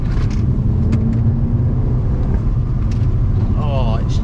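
An Abarth car accelerates hard with torque steer pulling at the front wheels, a loud steady engine roar heard from inside the cabin without a break.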